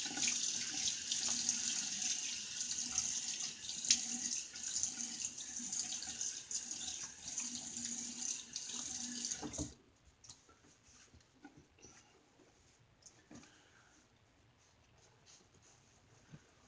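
A bathroom tap runs steadily for rinsing a 3D-printed injector-style razor, a bright hissing flow that stops abruptly partway through, leaving faint handling noises.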